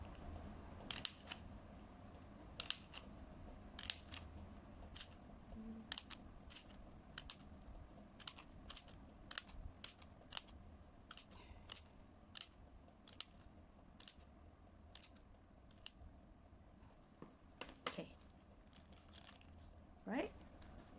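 Scissors snip through red ang pow packet paper while a three-tier Chinese New Year lantern is made, giving a steady run of short, crisp cuts at close range under a low background hum, with a person talking quietly.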